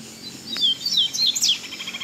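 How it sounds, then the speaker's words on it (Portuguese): A coleiro, the double-collared seedeater, sings close by in a quick series of high, sweet chirps and warbling trills lasting a couple of seconds, with no talking. "Olha que canto, galera. Que passarinho, hein?"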